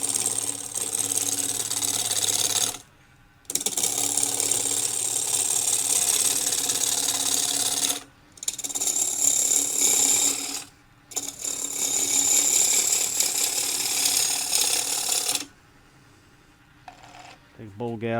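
A small bowl gouge cuts a tenon on a gavel blank spinning on a wood lathe, giving a loud, steady scraping whir in three long passes separated by brief pauses, ending with a few quiet clicks.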